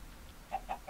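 A Minecraft chicken gives a few soft, quick clucks, three short blips evenly spaced near the end, faint against a quiet game background.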